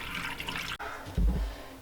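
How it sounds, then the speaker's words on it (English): Laundry water drains out the bottom of a tub into a sink, a soft steady gurgling rush with a brief gap and then a fuller surge near the end, heard close with no talking. "So there our water's draining."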